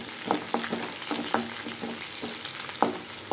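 Onion added to hot oil with mustard seeds and two dried chillies for an okra fry, a constant close sizzle with sharp scraping clicks from a spoon stirring the pan at irregular intervals.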